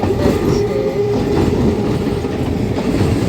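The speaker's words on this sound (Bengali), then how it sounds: "চলুন এদিক থেকে ট্রেন যাচ্ছে" A train heading toward Howrah rolls past, its rumbling wheels and steady rail clatter loud and continuous throughout, with no voices.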